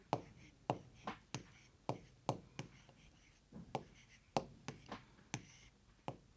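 Numbers are chalked or marked onto a classroom board, a rhythmic series of sharp taps and short strokes, about a dozen close and clear hits in an otherwise quiet room.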